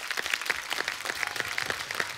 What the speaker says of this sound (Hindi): आपके लिए पहले तो तालियां।